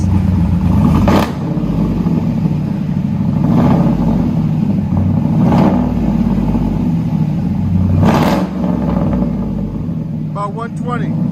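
A cammed 6.0L V8 Chevy work van with true dual exhaust and straight pipes roars at close range, its deep rumble swelling into four sharp revs spread across the stretch before settling back to a loud idle.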